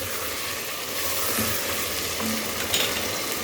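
Chicken sizzles steadily in a pan while cooking for daleem, a soft continuous frying hiss with a few faint utensil clicks and no talking.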